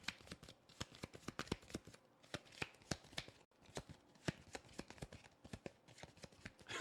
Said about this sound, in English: We were doing card shuffling ASMR just now.